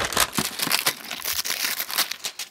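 Plastic toy packaging, an inner blister pack for a Zuru Smashers Dino Island mini T-Rex, torn open by hand, giving close, dense crinkling and ripping bursts in quick irregular succession with no talk.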